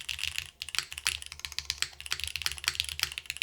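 Keys tap on a stone keyboard with its top frame removed, a brisk, close run of sharp clicks in an uneven typing rhythm, heard alone.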